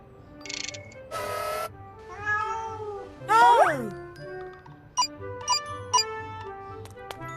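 Kittens meowing in a Ukrainian-dubbed cartoon: several high, wavering meows and a squealing cry ring out amid tinkling chimes and soft music, with narration heard around them.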